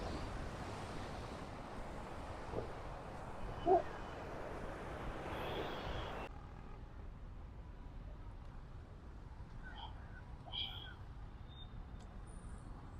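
Sea waves wash onto a Colombo beach in Sri Lanka at night, a steady broadband rush with wind noise, louder in the first half and then softer and more distant, with faint background sounds.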